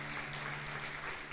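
A church congregation claps together in praise, a brief dense wash of applause at moderate distance.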